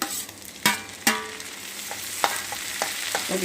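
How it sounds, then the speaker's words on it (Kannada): Tomatoes go into plenty of hot oil for an egg keema curry, hitting with sharp loud bursts of sizzling, then frying steadily while a spoon stirs and scrapes the pan in close, irregular strokes. "ಈಗ ನಾನು ಟೊಮೊಟೊ ಹಾಕ್ಕೊತೀನಿ"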